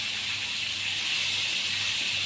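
Chicken pieces fry in hot oil for a crispy Malaysian-style fried chicken, giving a steady, dense sizzling hiss close up with no speech.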